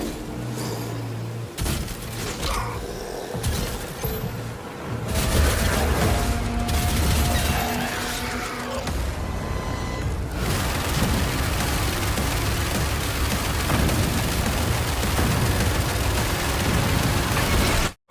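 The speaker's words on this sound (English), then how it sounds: "In Doom: The Dark Ages, shooting demons in the legs will strip the flesh away, exposing the bone beneath." Gunfire in Doom: The Dark Ages as demons are shot in the legs. A dense, continuous barrage of shots and impacts runs loud and close for the whole stretch, mixed with game effects.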